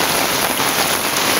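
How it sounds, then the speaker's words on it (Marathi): Heavy rain pouring down around a village house in Konkan, a dense, steady hiss that fills everything without a break, loud and close, no voices. "नुसता पाऊस नुसता पाऊस."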